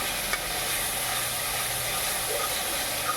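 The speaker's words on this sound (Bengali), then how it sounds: "লঙ্কাটা দিয়েও ভালো করে ভেজে নিচ্ছি।" Chili paste frying in hot oil in a pan, a steady bright sizzle and hiss that carries on without a break, close and fairly loud with no talking.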